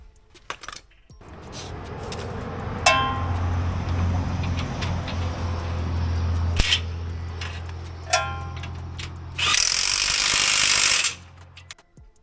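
Suspension bolts on a 2017 Jeep Wrangler JK are tightened with hand tools: sharp metallic clicks and clanks over a low engine-like hum, then a loud buzzing burst near the end before it cuts off.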